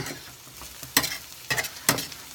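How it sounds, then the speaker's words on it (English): Homemade spaghetti sauce stirred in a pan, a soft simmering hiss punctuated by three or four quick, crisp scrapes of a utensil against the pan. "All right, so then a quick stir here"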